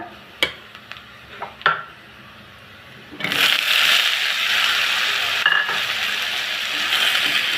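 Cauliflower and potato pieces hit a pan of golden fried onion and garlic, followed by a loud, steady sizzle and hiss of frying after a few faint clinks of utensils at the start.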